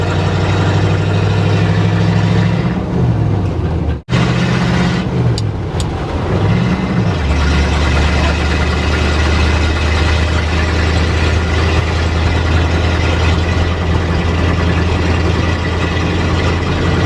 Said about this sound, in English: The engine's running reliably.